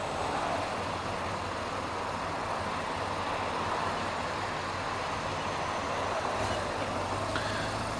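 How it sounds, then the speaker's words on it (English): Dense evening commute traffic on I-405 near Seattle, heard from a motorcycle: a steady, loud broadband rumble of engines and tires with no clear breaks. "This is traffic."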